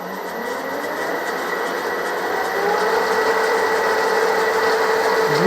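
A metal lathe turns and cuts steel at a reduced spindle speed, giving a steady, continuous mechanical whir and grinding hum that grows slightly louder partway through, close and with no talking.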